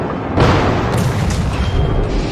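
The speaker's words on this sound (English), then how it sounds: "you just heard that shot ricochet off my hull" A loud booming hit rings out in a naval combat video game as an enemy shell ricochets off the hull of a French Jaguar destroyer, starting with a sharp impact and trailing into a sustained rumbling roar.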